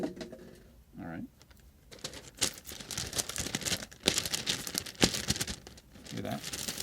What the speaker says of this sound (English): I'll see if I can make crinkle sound.